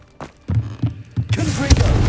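A Revelio spell cast in Hogwarts Legacy: a series of deep, throbbing pulses build, then swell into a dense, bright shimmering wash that ends in a sharp burst.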